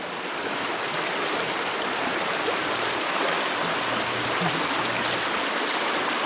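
Clear stream water rushing steadily at Nagalapuram falls near Chennai, a continuous broadband wash of flowing water, near and fairly loud, with no voices.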